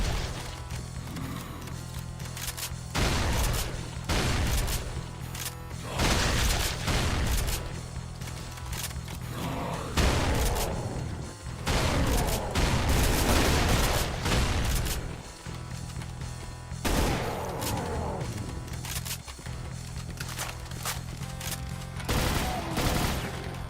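SMG gunfire in a video game map pack: dense, loud bursts of rapid automatic shots, repeated many times with short gaps over a steady droning game backdrop, no talking.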